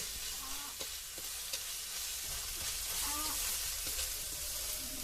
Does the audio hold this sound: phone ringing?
no